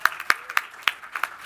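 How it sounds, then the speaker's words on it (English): Sparse, separate hand claps from a small event audience, near and fairly crisp, coming in an irregular scatter of single strikes rather than a full ovation, with no voices over them. "Let's give a round of applause."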